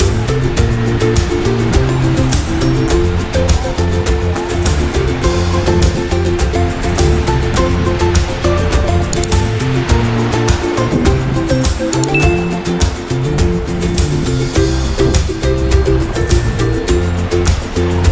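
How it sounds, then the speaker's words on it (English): Waves roll in gently at Playa de la Barca beach on Fuerteventura, a steady broadband wash with soft surges and light clinking textures, fairly loud and continuous with no talk over it. "just enjoy the gentle waves"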